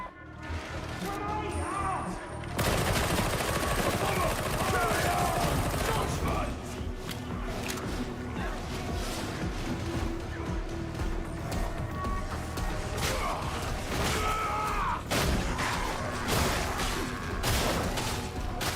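Gunner enemies in the video game Darktide open up with dense, sustained gunfire, a continuous rattling barrage mixed with sharp crashes and thumps that swell and recede across the fight.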